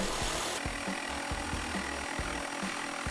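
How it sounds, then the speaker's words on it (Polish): A jigsaw saws through a wooden board along a curved line for a pergola build, giving a steady rasping buzz with rhythmic low thumps from the blade strokes, close and continuous. "I ponownie w ruch poszła wyżynarka."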